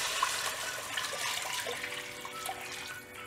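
Water pours into a pot of vadacurry, a steady gurgling splash close by that thins and fades near the end.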